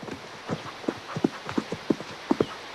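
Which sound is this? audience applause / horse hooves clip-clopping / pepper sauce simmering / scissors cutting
horse hooves clip-clopping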